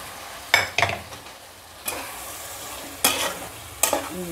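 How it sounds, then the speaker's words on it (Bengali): Young jackfruit stir-fried with spices in a pan: several sharp scraping strokes of a spoon against the pan over a soft, steady sizzle, with no voices. "এখন ভালো করে মশলাটার সঙ্গে এটাকে কষিয়ে নেওয়া।"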